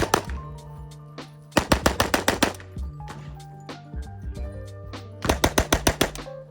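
Two long bursts of rapid automatic fire from a cheap, stamped scrap-metal WW2 submachine gun at a shooting competition, near and loud, with a lone shot before the first burst and a quieter stretch between the volleys.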